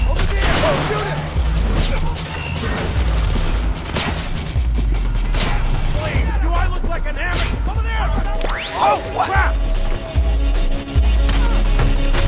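Gunfire in a Splinter Cell Conviction video game trailer: shots and bursts of fire mixed with crashes, impacts and dramatic music, while voices shout throughout.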